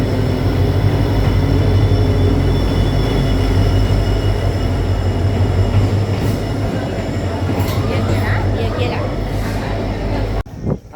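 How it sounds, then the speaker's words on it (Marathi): A Rajdhani train pulls into a station platform with a loud, continuous rumble of wheels on rails, growing squeals and clanks near the end, and someone speaking over the din. "आली आपली ट्रेन मंडळी बघा."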